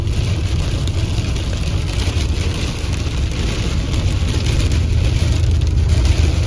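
Steady engine rumble and road noise from a car driving into a storm, continuous and fairly loud, with a faint wash that could be rain.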